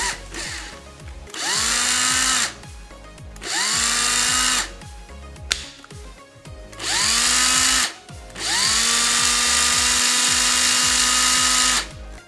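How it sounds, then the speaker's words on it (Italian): A cordless pencil drill fitted with a rebuilt 18650 lithium battery pack and BMS whirs up in four separate bursts, each motor whine rising in pitch and holding steady before cutting off, loud and close with short pauses between. "Prendiamo il nostro trapano matita, inseriamo all'interno la nostra batteria appena creata, chiudiamo e vediamo se va."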